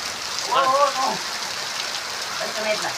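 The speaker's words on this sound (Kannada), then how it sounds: "ಮಳೆ ಅಂತೂ ಸಿಕ್ಕಾಪಟ್ಟೆ ಬೀಳ್ತಾ ಇದೆ." Steady rain hissing on surfaces, constant and moderately loud, with a couple of brief voices or tones rising over it.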